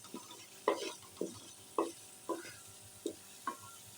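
Whole cumin seeds roasting in oil for a samosa filling, a faint low sizzle broken by about seven sharp, evenly spaced spoon scrapes and taps against the pan, close and without talk.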